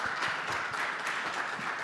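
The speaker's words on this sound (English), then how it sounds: "a round of applause for Jay as well" A room of small-business workshop attendees applauding, a steady, moderate wash of many hands clapping at once that holds level throughout, slightly distant.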